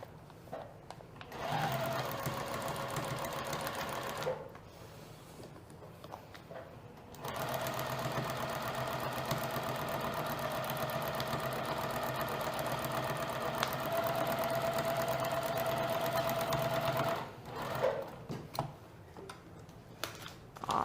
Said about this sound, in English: Take it to our sewing machine